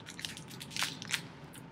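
Crisp crunch of teeth biting into a chocolate-flavored Umaibo puffed corn snack, two sharp close bites standing out over quieter crackly chewing.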